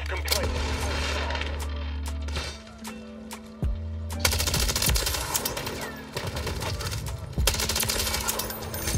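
MTZ 556 assault rifle in Call of Duty MW3, fired in rapid automatic bursts, loud and close, with short pauses between strings of shots over constant in-game background noise.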